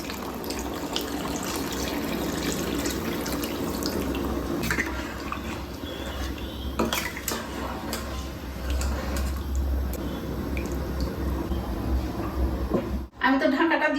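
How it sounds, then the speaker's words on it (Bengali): Hot water is poured into a pot of chicken curry, a steady pouring and splashing wash that runs close by throughout, with a brief clatter near the end. "এই যে দেখুন গরম জলটা"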